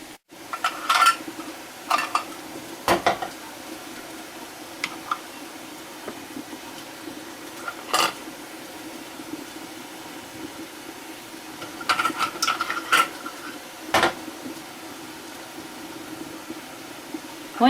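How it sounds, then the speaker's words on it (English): Metal canning lids and rings clinking against glass jars while making low-sugar strawberry jam, a few scattered sharp clinks and taps in clusters over a low steady hum, with no talking. "I'm going to go ahead and drain this out so I can get my lids out easily, and then place them on the jars with the rings"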